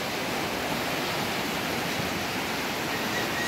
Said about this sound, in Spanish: Muy grosero mi río.